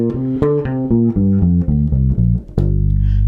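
An acoustic guitar plays a scale exercise that shifts across fingerboard positions, individual notes stepping steadily downward in an even rhythm before a final ringing strum, close and clear with no talking.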